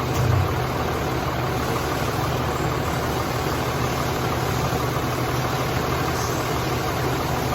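A Dodge truck with a 48RE automatic transmission idles in neutral during a transmission fluid service, giving a steady low engine rumble that runs unbroken and fairly loud from start to finish.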